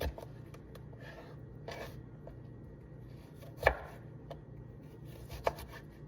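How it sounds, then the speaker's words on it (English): A knife slices cucumber pickles into spears on a cutting board, producing sparse quiet cuts and a couple of sharper knocks against the board, with no talking. "I'm gonna slice my pickles into spears"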